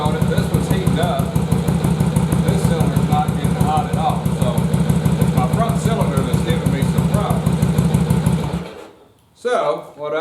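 A Yamaha Virago motorcycle idles roughly with only one cylinder firing, a loud close, steady lumpy chugging that runs throughout before cutting out near the end, with someone talking over it.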